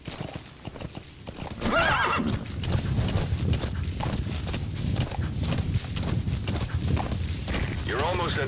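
In Metal Gear Solid V: The Phantom Pain, a horse's hooves clop steadily and loudly, with two whinnies rising clearly above the hoofbeats over a dense game soundscape.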